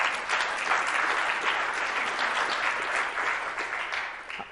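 An audience applauds the tech team at an advanced computational BIM workshop, a steady, dense wash of clapping from many hands that holds evenly throughout without pause.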